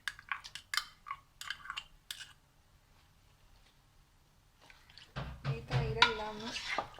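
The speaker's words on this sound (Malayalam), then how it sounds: "മട്ടണിലേക്ക് നല്ലപോലെ ഒന്ന് യോജിപ്പിച്ചെടുക്കാം." Yogurt being stirred into mutton curry in a pot, with a run of soft scraping, clinking strokes at the start, a quiet pause, then louder, busier mixing and pot knocks near the end.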